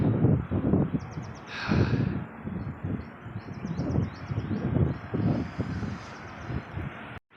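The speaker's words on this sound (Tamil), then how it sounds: "காற்றடிக்குதுங்க, சூப்பராக காற்றடிக்குது." Steady wind blows and buffets the microphone at a hilltop fort, Arikady Fort in Tamil Nadu, in continuous low rushing gusts, with faint chirps in the background.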